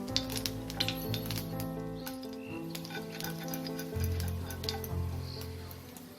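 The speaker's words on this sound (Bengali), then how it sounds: "তেলটা গরম হয়ে গেলে একটা শুকনো লঙ্কা আর হাফ টিস্পুন কালো জিরে ফোড়ন দিয়ে দেবো" A dried red chilli and nigella seeds sizzle and crackle in hot mustard oil in a pan, a steady close frying hiss with small pops and a faint stirring clatter, no talk.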